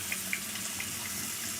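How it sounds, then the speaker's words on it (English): Water running steadily from a tap during handwashing, a close, soft continuous hiss and splash with a few faint droplet ticks. "It's the sound of running water,"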